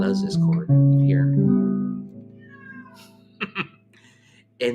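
A house cat meows over a sustained, arpeggiated jazz guitar chord, with short high mewing calls rising above the plucked notes. A voice talks in the gaps.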